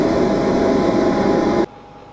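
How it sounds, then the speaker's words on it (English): A laser cutter's exhaust fan blows a steady, loud broadband rush with a low hum, running continuously before cutting off abruptly near the end, leaving quiet room tone. "here's the exhaust of the laser"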